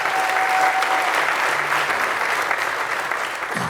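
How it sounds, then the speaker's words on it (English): An audience applauds at an outdoor bluegrass concert at Silver Dollar City, a dense, steady wash of clapping from a sizable crowd that tapers slightly toward the end. "Let's give him a round of applause."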